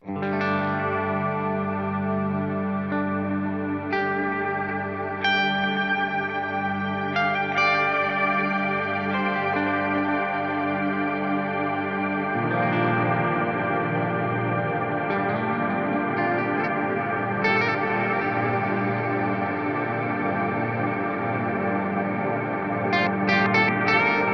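Electric guitar through an Axe-Fx III effects unit in stack mode, sustained chords shimmering with chorus, echo and distortion, layered and continuous throughout.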